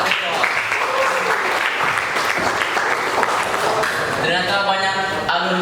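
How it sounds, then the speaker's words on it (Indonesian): Audience applause for a guest at a school event, sustained clapping from a crowd, loud and steady, with a voice speaking over it near the end. "Tepuk tangan dulu untuk Kak."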